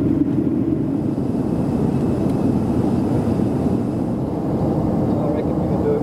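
Steady, loud broad roar of an SAS Scandinavian Airlines Boeing 737 during takeoff, heard from inside the cabin as a continuous low rumble with no clear breaks.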